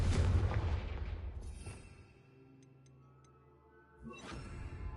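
A Confringo blasting spell goes off in the Hogwarts Legacy video game: a loud booming explosion that decays into a faint ringing tail, then a second burst near the end.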